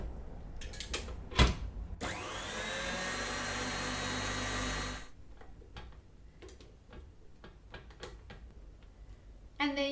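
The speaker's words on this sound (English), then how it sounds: "all we're going to do is put that onto the mixer again, just to combine it." A stand mixer whirs loudly for about three seconds while combining Italian meringue buttercream with vanilla, set between clicking and clattering sounds of handling equipment.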